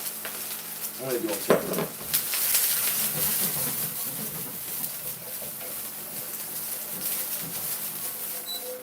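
Broccoli sizzling and hissing in a hot wok, with scrapes and clatters of stirring against the pan throughout and a person speaking briefly over it.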